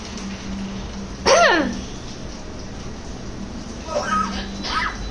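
A talking mynah bird imitates a cough with short, raspy, chirpy bursts: one clear burst, a pause, then two more close together over a low steady hum.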